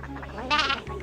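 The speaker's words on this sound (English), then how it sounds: "And there, it's a sheep." A single short sheep bleat from a cartoon farm scene, a quavering mid-pitched cry rising briefly over a low steady hum, fairly faint.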